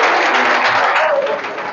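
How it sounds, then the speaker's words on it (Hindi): Audience applause at a school science quiz competition in Bihar, a steady wash of clapping lasting under two seconds without a break. "सर के लिए जोरदार तालियां बजाइए"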